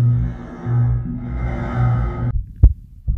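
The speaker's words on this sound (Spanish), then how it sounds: "Aquel rumor, lo reconocí al punto, era el latido del corazón del anciano" A muffled, dull heartbeat effect, a slow low throbbing pulse heard alone and fairly loud, fading out at the end.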